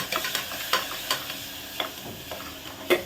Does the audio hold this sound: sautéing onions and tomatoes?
yes